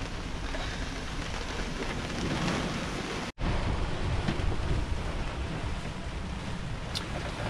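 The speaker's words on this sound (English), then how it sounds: "Tipping down with rain." Heavy rain pours down during a squall at sea on a sailing crossing, a dense continuous roar with wind, broken by a brief dropout partway through.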